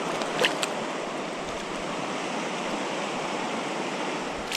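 A brook at Fall Creek flows steadily, a dense, even rush of water running close and constant throughout, with a couple of faint clicks near the start and end.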